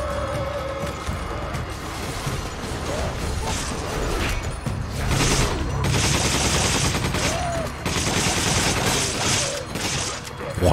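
Rapid gunfire bursts rattle loudly in Resident Evil 5 combat against enemies, repeated volleys coming close together with mechanical clatter between them.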